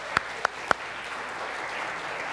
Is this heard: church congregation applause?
yes